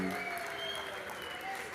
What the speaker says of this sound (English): a round of applause again from Wendy